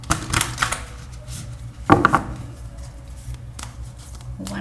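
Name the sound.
shuffling oracle cards for a tarot reading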